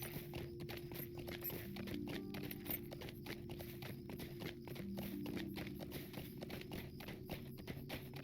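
Steady clip-clop of horse hooves trotting at a quick, even rhythm, close and continuous, over a low droning game music bed, in Lord of the Rings Online.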